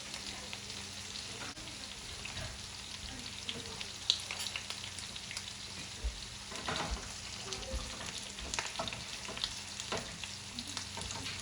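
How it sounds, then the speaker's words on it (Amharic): Onions frying in oil in a pan over slightly raised heat sizzle steadily and quietly, with occasional soft stirring sounds and no voices. "አሁን እሳታችንን ትንሽ ጨመር አድርገን ሽንኩርቱ ስለገባ ጥብስ እናደርገዋለን ማለት ነው በዘይት።"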